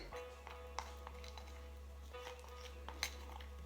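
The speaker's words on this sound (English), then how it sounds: "just going to work those out with your spatula" A spatula works a thick facial mask in a small bowl, giving soft scraping and stirring with several light clinks against the bowl, fairly quiet and close over a steady low hum.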